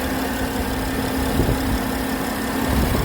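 A 2016 Porsche Panamera Edition's 3.6 liter V6 engine running at a steady idle, a close, even hum with a low drone and no voices.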